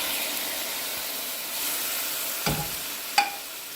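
Tomatoes frying in a pan with a teaspoon of oil for a Kashmiri tomato-eggplant dish give off a steady, close sizzling hiss, broken by a couple of sharp utensil knocks near the end.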